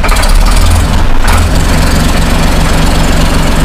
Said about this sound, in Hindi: एक बार इस ट्रैक्टर की आवाज़ सुनवा के दिखाओ भाइयों